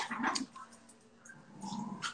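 Dogs bark and whimper in a muffled, faint way, several short bursts spread across a couple of seconds amid room noise, with no talking.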